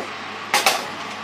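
Pan of oven-fried chicken set back into the oven: two quick, close metallic clunks about a tenth of a second apart, over a quiet room with no talking.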